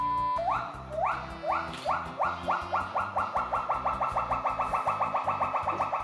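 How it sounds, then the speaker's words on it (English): A pileated gibbon calls in a long series of rising, whooping notes that start spaced and quicken into a rapid, evenly pulsing run, clear and fairly close. "the pileated gibbon, because in my opinion, they have the coolest call"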